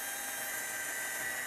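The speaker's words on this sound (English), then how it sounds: "I drill between the ties as close to the track as I can" An electric drill runs continuously, boring between the ties of model railroad track to make a hole for a feeder wire, a steady close whine with no pauses or talk.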